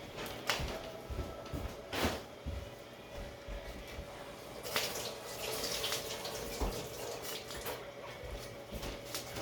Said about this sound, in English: I'm gonna rinse these off